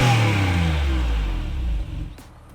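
A rear-engined Porsche 911 with a sports exhaust revs close by, its deep, loud note falling away as the revs drop, then a brief click as it settles into a quieter idle.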